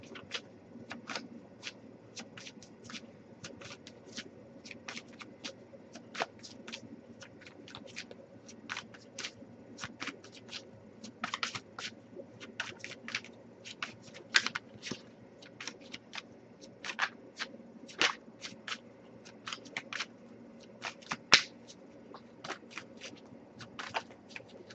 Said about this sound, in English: nothing coming up yet, but I'll get a few more shuffles.